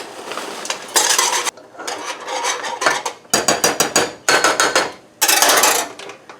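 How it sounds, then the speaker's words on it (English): A whisk clatters briskly against the sides of a pot while emergency food mix is stirred into boiling water, making loud, rapid scraping and tapping bursts separated by short pauses. "Then we're going to whisk it into our 4 cups of boiling water."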